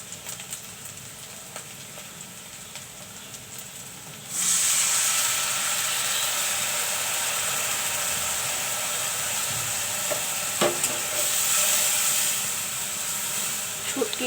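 Spices dropped into a hot cooking pot with dried fish, a sudden loud sizzle and hiss bursting in after a quiet start, then a sustained steady frying crackle with a few small clinks.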